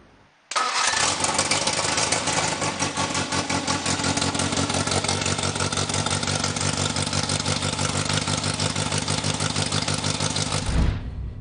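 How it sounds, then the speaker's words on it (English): A Holden Torana engine on a running-in stand cranks and catches, then runs loud and steady at a fast idle for about ten seconds before cutting off abruptly. "so we can now fire this engine up, run the camshaft in."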